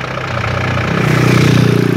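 A motorcycle engine running near coffee plantations, a steady mid-low engine drone that builds slightly louder and rougher toward the end, with no talking.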